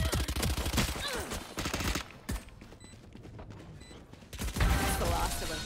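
Rapid bursts of gunfire in the Valorant shooter game, loud volleys at the start and end with a quieter gap between, while players talk.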